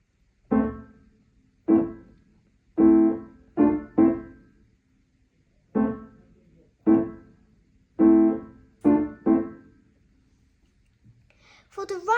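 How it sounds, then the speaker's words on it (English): Staccato left-hand chords from Schumann's The Wild Horseman are played softly on piano, with about ten short detached chords in uneven groups separated by brief silences. "I'm now playing the first 2 bars on my left hand"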